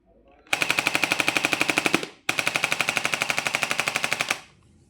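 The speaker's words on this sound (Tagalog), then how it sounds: "Nagiging ganun yung tunog niya guys." Battery-powered toy blaster gun firing two rapid bursts of loud, evenly spaced electronic shots, the first lasting about one and a half seconds and the second about two seconds, with a short gap between them.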